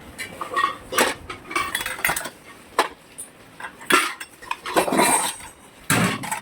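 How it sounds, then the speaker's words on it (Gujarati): Old metal household utensils, around sixty to seventy years old, clinking and clattering as they are taken down and handled, a series of close, sharp metallic knocks and rings at irregular intervals. "જૂના વાસણો ઉતારવાના છે"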